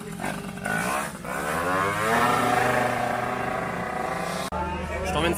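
A 50cc moped built for an 18-hour endurance race revs hard and close, its engine note climbing and holding steady, then dropping sharply before picking up again, with voices speaking over it.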